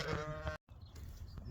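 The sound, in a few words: sheep bleating on a farm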